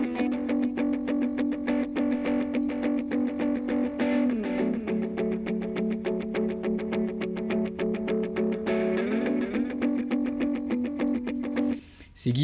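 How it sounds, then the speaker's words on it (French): Electric guitars play sustained, distorted chords with a washy, echoing tail, loud and steady with no voices. "la guitare 3-4 dans la reverb."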